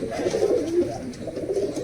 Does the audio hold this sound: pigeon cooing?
yes